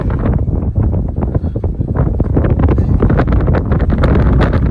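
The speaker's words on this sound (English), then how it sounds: "Hope the wind's not washing it out." Strong wind buffets the microphone outdoors beside a pond or lake on the Appalachian Trail, a loud continuous roar with gusting rumble throughout.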